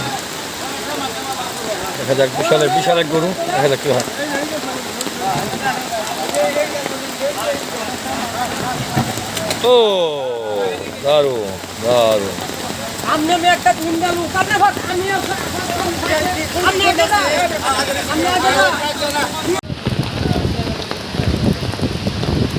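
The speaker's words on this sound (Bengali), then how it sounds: "বৃষ্টি হচ্ছে ময়মনসিংহ শহর জুড়ে" Steady rain pours over the Qurbani cattle market at the historic Circuit House field in Mymensingh, a loud unbroken wash of noise carrying on under someone talking and crowd voices throughout.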